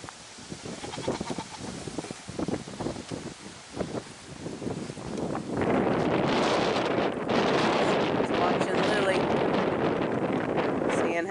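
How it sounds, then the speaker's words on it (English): Strong outdoor wind on a farm where goat does are kept, roaring loudly into the microphone as a steady broadband rush for the second half, after a voice talks over lighter gusts. "It is a windy one again"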